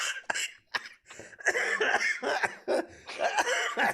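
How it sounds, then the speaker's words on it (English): A person coughs repeatedly in short, harsh bursts, close and fairly loud, with a bit of throat clearing between them. "I'm gonna start coughing"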